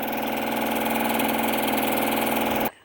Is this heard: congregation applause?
no